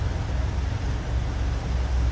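A boat engine runs steadily at sea, a continuous low rumble with wind and water noise throughout, loud and close.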